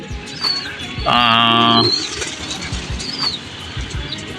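Pigeons flutter and shuffle around their coop trying to get inside, with brief wing flaps and scratchy movement, a short loud burst of bird activity in the middle of a quiet domestic setting.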